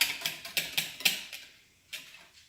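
An egg is whisked in a bowl, giving a quick run of light rhythmic clicks and taps that slows and fades, then one last brief burst, close and fairly quiet.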